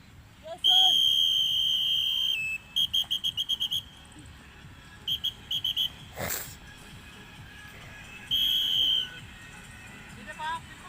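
A coach blows a shrill whistle during a physical exercise drill, with one long blast, a run of quick short toots, and later another sustained blast, heard over open outdoor ambience.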